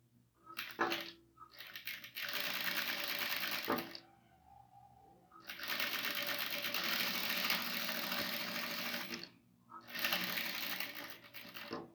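A sewing machine stitches fabric for a bunny-shaped backpack in three steady runs of rapid mechanical clatter, separated by short quiet pauses where the work is turned.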